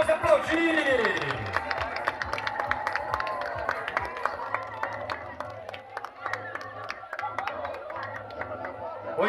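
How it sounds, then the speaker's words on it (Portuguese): An audience at a summer beach girls' pageant results ceremony in Brazil claps and cheers for the contestants, the scattered applause heard over a loud announcer and crowd chatter. "Vamos aplaudir as meninas"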